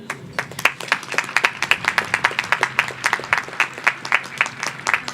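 Audience at a university graduation ceremony for the School of Business Administration and School of Engineering applauds with steady, close clapping, many hands striking in a dense, sustained rhythm with no talk.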